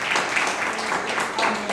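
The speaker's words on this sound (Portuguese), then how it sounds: "Aplauda o Senhor Jesus." A church congregation claps together in a dense, steady wash of applause that fills the room, with voices faintly mixed in.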